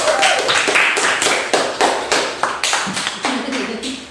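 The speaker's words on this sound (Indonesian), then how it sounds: "tepuk tangan anak-anakku semua" A group of children in a classroom lesson clap their hands in a fast, rhythmic pattern, with sharp distinct claps close by, loud and slightly uneven in timing.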